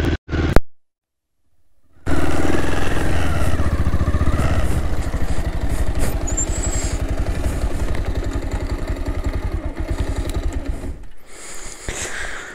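A motorcycle engine running while riding on a long trip, starting after a short silence with a loud, steady mid-pitched drone and rapid firing pulses that hold throughout before fading near the end, with no talking.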